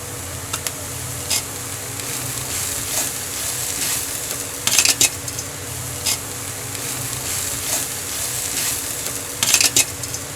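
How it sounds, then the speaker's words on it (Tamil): Puffed rice being sautéed with cooked vegetables in a pan, a continuous crackling sizzle with a few louder bursts of scraping and stirring spaced through it. "இந்த பொரியை கொட்டி நல்லா வதக்குங்க"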